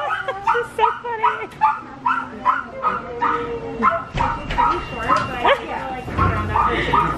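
A young Shih-poo puppy gives a run of small yips, whimpers and growly barks in a steady rhythm, close by and fairly loud, while a person talks over it.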